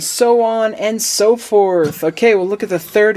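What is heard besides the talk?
No everyday noises stand out.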